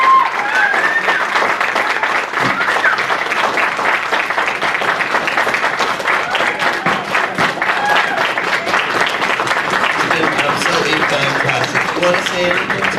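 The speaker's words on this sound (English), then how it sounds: "Let's have a round of applause." A convention panel audience at a crystal fair gives a long, dense round of applause that stays steady and loud throughout, with some voices mixed in.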